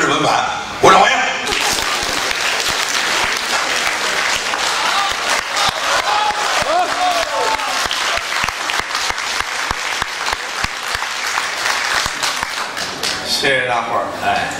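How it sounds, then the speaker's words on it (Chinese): Energetic audience applause greets crosstalk comedy performers taking the stage at a Beijing comedy theater, with sharp, dense clapping throughout and a few louder claps near the start before it fades into voices at the end. "鼓掌欢迎"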